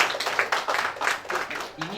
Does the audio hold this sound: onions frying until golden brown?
no